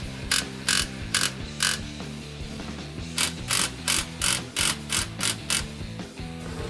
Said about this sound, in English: we're gonna use our impact with our 15mm socket and tighten these clamps down